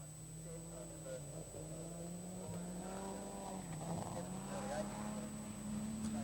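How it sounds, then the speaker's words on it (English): A rally car built more for Group E production racing runs at a 1986 Canberra rally sprint on a bitumen circuit, its engine a steady distant drone that climbs in pitch as it accelerates, with a voice faintly present over it. "using an unusual rally car, more suited to Group E production racing on a bitumen circuit"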